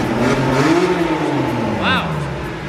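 A Porsche 911 Targa 4 GTS engine revs up and falls back in a smooth rising-and-falling note, with a voice speaking over the rumble.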